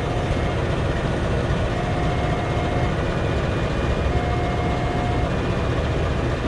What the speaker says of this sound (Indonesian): Dan sebentar lagi keretanya mau berangkat.